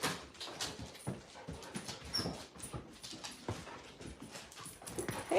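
Dogs in a backyard pant and shuffle close by, with soft whimpers and scrabbling paws in an irregular, fairly quiet stream of small sounds.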